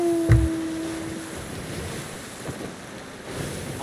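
Wind and ocean waves at sea in the Sea of Thieves game, a soft, steady wash of surf and wind noise, faint and continuous, with a brief low thump near the start.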